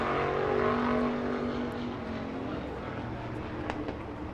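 Speed Tour supermodified race cars run a heat race at Shasta Speedway, their engines blending into a steady, droning roar that fades slightly as the pack moves off, with no voices over it.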